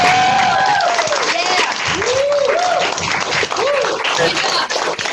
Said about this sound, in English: join me in giving a warm round of applause